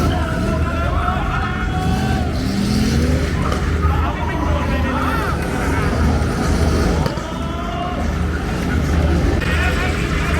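Cars drifting at a Thai racing event in Phuket, with a continuous loud engine roar and tire noise from a distance, blended with crowd chatter and a voice talking throughout.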